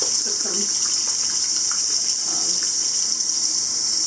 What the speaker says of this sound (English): on the cloth, and it is a pink cloth, and I'm just going to rinse it